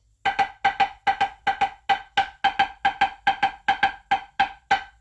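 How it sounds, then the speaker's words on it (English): A marching snare drum plays a steady run of crisp double strokes, pairs of sharp hits repeating evenly, close and loud with no other sound. "basic drumline, marching drumline kind of double beat exercise"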